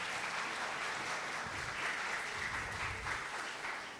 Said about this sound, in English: Please give a round of applause for our presenters.